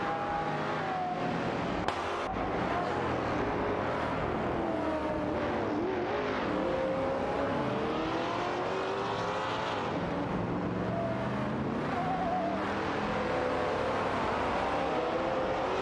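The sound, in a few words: race cars overtaking in an AI racing video game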